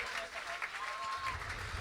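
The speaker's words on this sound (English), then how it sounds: "Big round of applause." An audience at a comedy club gong show applauds, a faint, steady wash of clapping.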